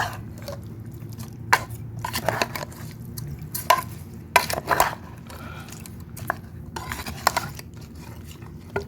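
Camel meat curry stirred in a pot by hand, with close, irregular scrapes and clinks of the spoon against the metal over a low background hum.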